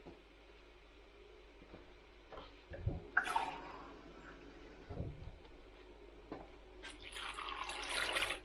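Water poured into a pot of pumpkin and vegetable stock, a faint splashing trickle with quiet kitchen clinks, the pour growing louder toward the end.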